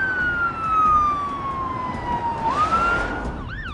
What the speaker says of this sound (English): Then expect the siren to go back on and the vehicle to come past.